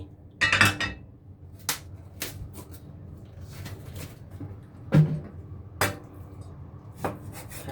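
A knife chops pork tenderloin into large pieces on a cutting board, making sharp, irregular close knocks spaced about a second apart over a quiet room background.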